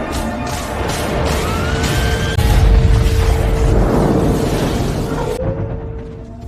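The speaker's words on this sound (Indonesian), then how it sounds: "Perangkat itu kemudian meledak dan lampu kota menyala lagi." A loud crashing explosion of a device in the film I, Robot rumbles and roars for several seconds amid debris and whooshing effects, then cuts off to near silence.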